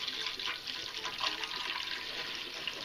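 Regular lemonade poured into a roast beef marinade, a steady hissing splash of liquid that runs for a few seconds without a break, fairly close, with no talking.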